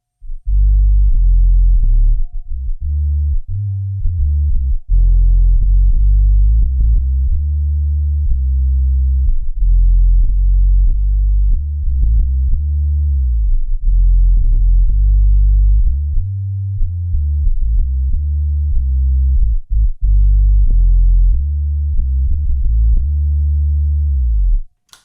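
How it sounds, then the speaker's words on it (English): DOD Meat Box subsonic fuzz pedal on a guitar rig: loud, deep, heavily fuzzed bass-heavy guitar notes played continuously, with sustained droning tones and brief pitch changes between phrases, no talking. "And then I'm going into the meat box. DoD meat box. It's classic. Like this subsonic fuzzy thing"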